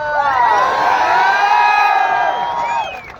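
A crowd at an open-air gathering of unemployed students cheers loudly with whoops and shouts, the steady roar holding for about three seconds before easing off.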